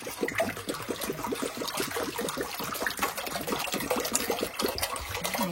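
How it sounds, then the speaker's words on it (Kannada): Water is poured into a kadai in a home kitchen, making a continuous, moderately loud splashing gush that runs steadily throughout. "ಸೊ ಈ ಥರ ಕಡಾಯಿ ತಗೊಂಡು ಇದಕ್ಕೆ ಇಷ್ಟು ನೀರು ಹಾಕ್ತದೆ"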